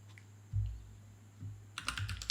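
Short burst of typing on a computer keyboard while naming a new folder in Google Drive: a few soft low thumps early on, then a quick cluster of sharp clicky keystrokes near the end, close and fairly quiet.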